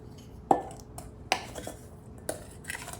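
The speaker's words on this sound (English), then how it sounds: "Just gonna mix it up so it's nice and even." Blanched mushrooms are tossed with marinade in a bowl for an arugula salad. A utensil scrapes and clinks against the bowl in three sharp, quiet knocks with soft stirring between them, heard close up.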